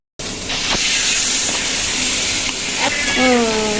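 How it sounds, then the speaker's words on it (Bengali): Pangas fish frying in a pan, a steady close hiss and sizzle of hot oil lasting throughout, with faint voices and brief tonal sounds near the end. "আর এখানে আমরা মাছগুলা ভেজে নিতেছি, কিছু ভাজা হয়ে গেছে আর কিছু ভাজা হচ্ছে।"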